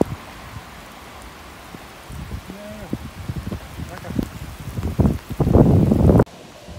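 Rain at Delft Campus train station patters steadily under a hiss of wind and mic noise, with people talking close by and a heavier gusty rush building toward the end before it cuts off.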